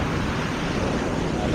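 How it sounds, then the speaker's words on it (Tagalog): Big ocean waves at a Zambales beach surge in a dense, continuous wash of surf noise, loud and close with wind buffeting the microphone. "Lalaki ng alon."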